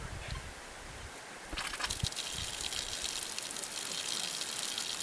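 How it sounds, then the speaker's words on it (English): Water gushes on abruptly through a hose after a brief quiet start, settling into a steady, loud rushing flow that continues without a break. "Go ahead, turn the water on, Millie."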